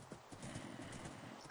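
Horse in the Minecraft video game, a brief stretch of soft clip-clopping hooves mixed into a dense, noisy wash, quiet and continuous throughout.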